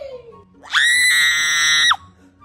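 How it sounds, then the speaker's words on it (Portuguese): A single loud, high-pitched scream lasting just over a second, rising sharply and cutting off abruptly. "Não adianta gritar, você tá pausada."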